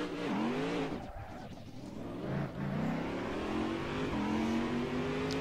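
Corvette DP prototype race car driven in Assetto Corsa, engine loud and continuous with rising rev sweeps, quick gear-shift dips and brief tire squeal, no talk.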